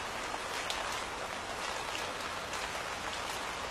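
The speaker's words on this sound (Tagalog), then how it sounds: "Kailan kaya titigil itong ulan?" Steady rain falls in a dense, even hiss with scattered drops pattering on a surface, continuous and unbroken throughout, with no voices.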